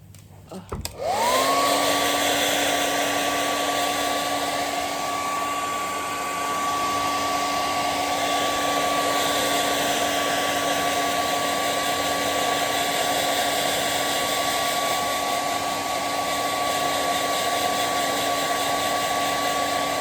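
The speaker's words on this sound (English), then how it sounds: "And then I'm going to get my dryer, handy dandy dryer." A handheld hair dryer used to set a homemade wig switches on after a brief click and blows steadily with a constant high whine, loud and close, running without pause.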